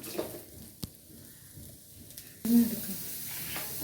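Ridge gourd peel sautéing in oil gives a faint, soft sizzle and stir, with a few clicks from a utensil and a slightly louder hiss toward the end.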